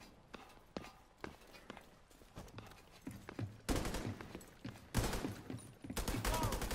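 Gunfire in The Division 2's Dark Zone South: rapid bursts of automatic shots crackling close by, dense and loud in the second half, with footsteps mixed in and no speech over it.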